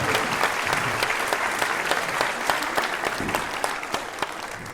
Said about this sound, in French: Est-ce qu'on peut faire un maximum d'applaudissements pour Jean-Baptiste Vittel,